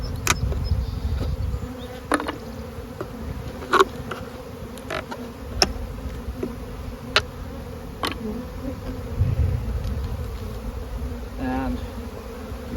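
Honey bees buzz steadily at close range in a spring hive while its chambers are boosted and reversed. The dense hum runs throughout, broken by occasional sharp clicks and taps.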